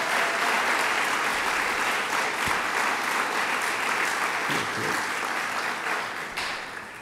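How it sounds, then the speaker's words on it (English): A crowd at a medical marijuana bill signing with Governor Cuomo breaks into sustained applause for Amanda, a thick, even roar of many hands clapping that fades slightly near the end. "Let's give a big round of applause to Amanda for doing a great job."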